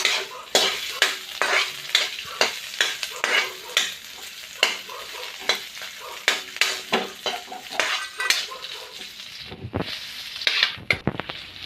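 Garlic and ginger are sautéed in a little oil in a pan: quick, regular scraping stirs over a soft sizzle, close and clear, with a louder clatter near the end.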